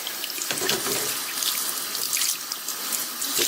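Kitchen tap water runs steadily into a sink, rinsing freshly cooked spiralized vegetables, a continuous close splashing and trickling stream with no talking.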